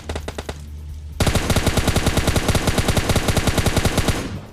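Rapid MK14 rifle gunfire in PUBG, a burst of sharp shots followed by a longer sustained string of evenly spaced loud cracks with echo.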